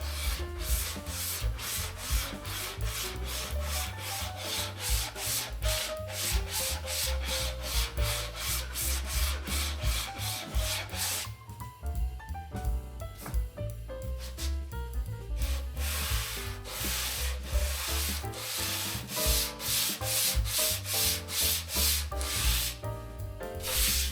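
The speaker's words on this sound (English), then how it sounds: "Then I'll hit it with some flexible hand sandpaper." Steady rhythmic rasping of sandpaper rubbed back and forth over wood by hand, close up, with a brief pause midway.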